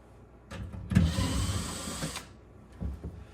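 A power drill whirs for about a second and a half, close by, removing a screw from a range hood, then stops, followed by a short clunk of handling.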